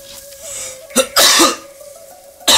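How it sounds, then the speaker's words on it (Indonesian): Two loud, close coughs, one after another, then a sharp third burst at the end, over a quiet background hum. "maaf banget ya, batuk ya"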